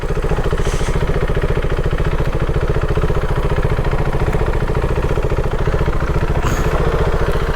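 A vehicle's engine runs loud and steady at close range as it turns on a beach, with a constant rumbling drone throughout and no talk over it.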